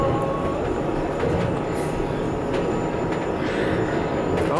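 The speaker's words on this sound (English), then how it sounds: "we're now on the second leg of our journey on this delightful little wooden train going up to Kleine Scheidegg" A small wooden mountain railway train of the Jungfraubahn line climbs toward Kleine Scheidegg, giving a steady low rumble and rolling carriage noise throughout, with no talk over it.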